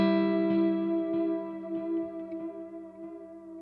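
Ambient electric guitar with reverb placed after the delay, ringing out sustained notes whose repeats smear into a soft reverberant tail, plucks recurring about every half second and slowly fading, with no voices.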